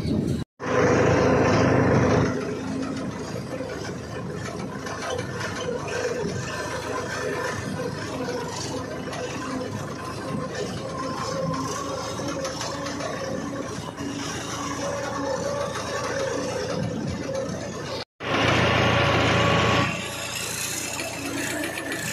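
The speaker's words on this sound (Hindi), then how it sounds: "ट्रैक्टर पर बैठे हैं।" A tractor engine runs in a steady, moderately loud mechanical drone with a faint ticking rhythm, broken by brief louder bursts near the start and again toward the end.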